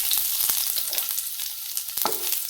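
Garlic and mustard seeds fry in a little oil with a continuous crackling sizzle. Sharp pops and spatters stand out through the hiss, along with occasional stirring clicks.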